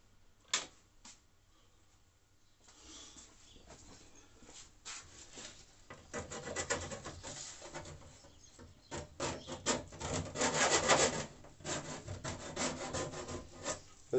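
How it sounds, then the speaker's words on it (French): Hand file rasping on a homemade terrarium build, working in repeated short strokes that grow busier and louder toward the end, close up, with no talking. "Un petit coup de lime et ça sera bon."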